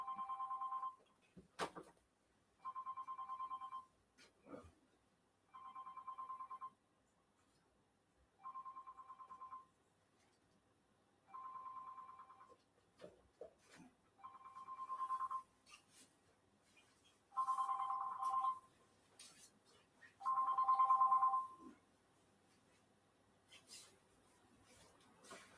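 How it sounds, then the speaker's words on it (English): Telephone ringing in a repeating pattern of bursts, the rings growing louder and longer toward the end, with faint clicks and rustling between them and no talking. "I've got a phone call."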